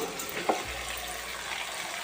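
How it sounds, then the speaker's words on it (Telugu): Fish pieces frying in hot tempering for a tamarind fish curry give a steady, close sizzle throughout, with one brief clink near the start. "తాలింపు కాలిన తర్వాత కూరలో ఇవన్నీ వేసేసుకున్నాం చేపల ముక్కలు"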